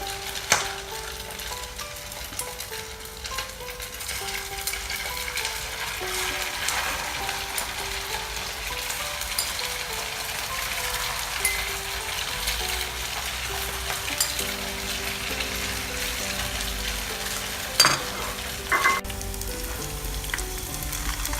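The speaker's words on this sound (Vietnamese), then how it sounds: "Đợi dầu sôi rồi các bạn cho vào chiên." Fish cakes frying in hot oil make a steady, close crackling sizzle throughout, with occasional sharper pops and a faint clink of utensils near the end, with no talking.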